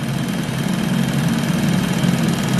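A Ford Mustang engine idles steadily with a faint repetitive clacking from a faulty sensor, a constant low rumble close by with no talk.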